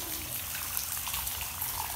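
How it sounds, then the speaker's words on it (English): Turkish coffee brewed on a camp stove is poured into a cup, giving a soft, continuous liquid trickle that stays close and fairly quiet for the whole moment. "we just pour up a nice cup in the Big Lou"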